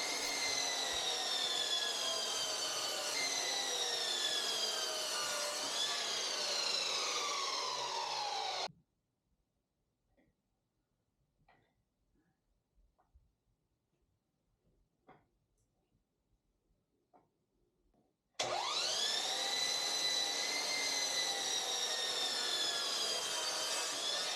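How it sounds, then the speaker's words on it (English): A hand saw cuts rough-cut cherry wood in steady back-and-forth rasping strokes, close and loud. A long near-silent gap with faint knocks separates two bouts of sawing. "Then using the saw, I was able to make the cuts that I wanted."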